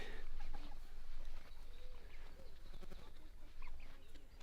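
Chickens in a movable chicken tractor with grass clucking and murmuring at close range, with scattered short calls over a steady low rumble of background noise.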